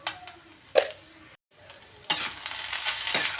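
Egg fried rice with soy sauce being stirred in a pan, scraping and clatter strokes over a soft sizzle that grows louder and denser toward the end, close up with no talking.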